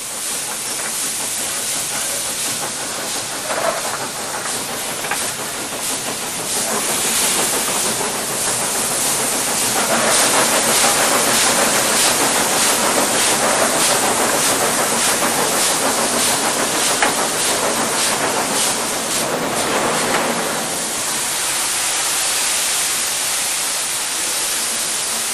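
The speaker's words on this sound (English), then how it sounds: "he wants to get the locomotive into a higher gear for the best possible traction, and works the cutoff as well as the regulator" Restored GWR King class steam locomotive 6024 King Edward I working hard uphill on the London to Bristol line, a loud continuous roar of steam and hiss with fast exhaust beats blurring together, swelling midway and easing slightly toward the end.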